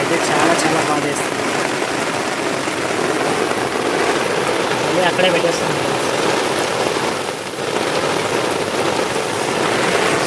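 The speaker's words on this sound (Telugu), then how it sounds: "వర్షం అయితే పడుతూ" Heavy rain pours steadily onto a bird's nest holding three eggs, a dense continuous patter close by, while a person speaks briefly over the downpour.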